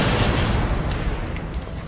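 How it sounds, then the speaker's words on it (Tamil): In the Watch Dogs 2 video game, a petrol station explosion bursts out as a loud, dense roar that slowly fades over about two seconds, with no talking. "இதை வெடிக்க வைப்போமா?"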